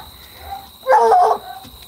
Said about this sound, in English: That's a dog that fell out of the tree.